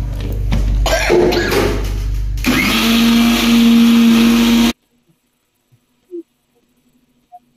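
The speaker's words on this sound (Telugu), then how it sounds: "చూసారా మిక్సీలోకి వెళ్ళిపోయింది" A mixer grinder whirs loudly while grinding curry ingredients with a little added water for brinjal and dried fish curry, a steady electric roar that rises in pitch, then cuts off into near silence with a few faint clicks.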